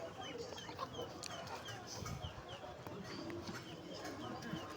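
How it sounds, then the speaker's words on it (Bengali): Hens and roosters cluck and call amid the steady crowd murmur of a busy bird market in Goyeshpur, with scattered bird voices layered over constant background chatter. "মুরগিও আছে, মোরগও আছে।"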